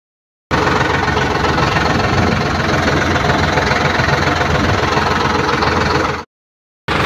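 A new Sonalika 745 DI tractor engine runs at a steady, loud, throbbing idle close by. It cuts off abruptly after about six seconds, and no one speaks.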